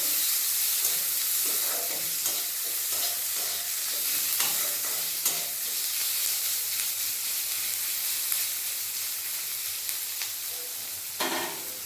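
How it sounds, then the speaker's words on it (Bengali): Green chili, ginger and garlic fry with onion in a pan, a steady close sizzle broken by the scrape and clink of a spoon stirring at an uneven pace, with no talking. "দিয়ে দেবো আদা রসুন ভেজে নেব পেঁয়াজের সাথে"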